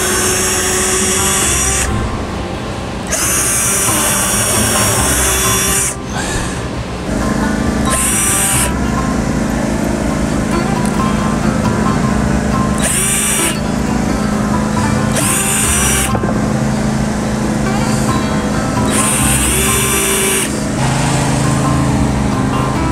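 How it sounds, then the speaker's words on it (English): A power drill bores pilot holes into a wooden countertop during a DIY patio bar build, running loud and close in several sustained bursts with short pauses between, no talking over it. "So now we're gonna just drill some pilot holes"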